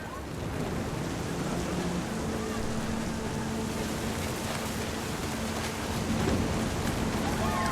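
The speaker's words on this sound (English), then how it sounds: "The thunder sounded much too close and full of angry power." Steady heavy rain with a low, rolling rumble of thunder from the game What Remains of Edith Finch, a dense continuous wash that swells slightly near the end, with no talking over it.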